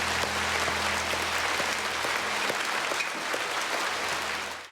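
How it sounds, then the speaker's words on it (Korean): A church congregation at a special early-morning revival service claps in praise, a dense, sustained roar of applause from a large crowd that holds steady and then fades out at the end. "우리 주님께 감사와 찬양의 박수를 올려드리십시다."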